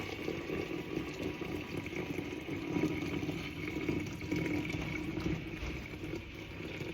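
Water being poured into a steeping brew and spilling over, a steady continuous splashing and trickling wash that holds at an even level throughout, fairly close, with no talk.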